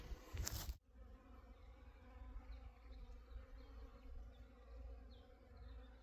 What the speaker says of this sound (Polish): Pszczoły oczywiście wody pobierają,